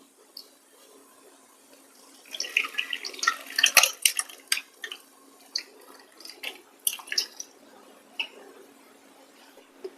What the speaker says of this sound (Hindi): छेने को छान देते हैं कपड़े में ऐड करके।